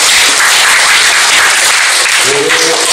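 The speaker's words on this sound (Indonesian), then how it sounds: "Tepuk tangan untuk Pak Didit." An audience at a certificate and IT award ceremony claps for a young village head: dense, loud applause that fills the whole short stretch without a break.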